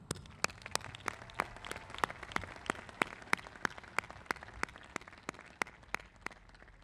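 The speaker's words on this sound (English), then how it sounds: "let's give one last round of applause, not only to your teachers, but to your caring guidance counselors and passionate administration." Sparse, evenly spaced claps ring out at a graduation ceremony, one sharp hand clap roughly every third of a second, faint and distant with no voices over it.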